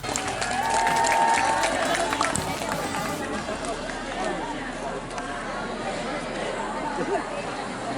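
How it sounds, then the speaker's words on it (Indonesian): Lively applause from a crowd at the opening of a school student-council debate in Bima, loudest early then settling into steady clapping with chatter mixed in. "Sekali lagi berikan tepuk tangan yang meriah."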